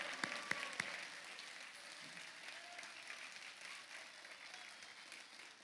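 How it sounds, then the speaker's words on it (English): Audience applause at the LSU Athletics Hall of Fame induction ceremony in a hall, with sustained clapping from a crowd and a few sharp claps near the start. "Let's have one more round of applause for the newest members"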